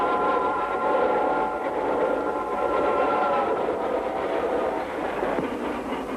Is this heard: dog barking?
no